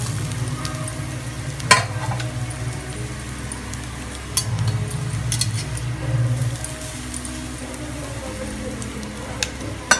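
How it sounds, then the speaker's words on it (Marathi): Grated coconut fries in ghee for modak filling, giving off a steady soft sizzle with occasional clinks of a spoon against the pan. A voice speaks quietly underneath. "आता याच्यामध्ये आपण हे किसलेले हे खोबरं आहे ते आपण तुपामध्ये टाकूया"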